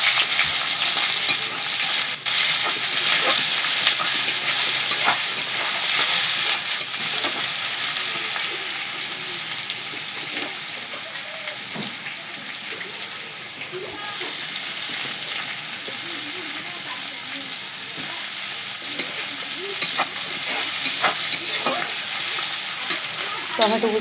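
Chopped onions fry in oil with dried red chillies, cardamom and bay leaf for a village-style Bengali banana flower dish, giving a steady, close hiss of sizzling with occasional stirring knocks throughout.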